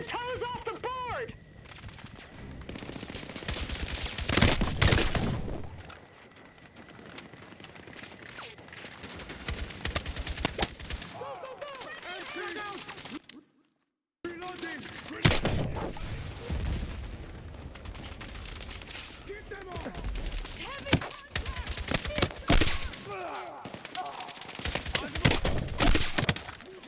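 Gunfire during a Battlefield 6 campaign mission, with loud bursts and rapid volleys, heavy impacts and a brief drop to silence midway, and shouted voices in the mix.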